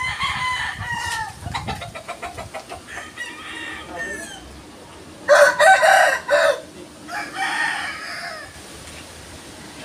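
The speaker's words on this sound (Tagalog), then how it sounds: "ito na yung manok." Chickens cluck and chatter nearby while a rooster breaks in with a loud crow midway, outdoors, with faint talk in the background.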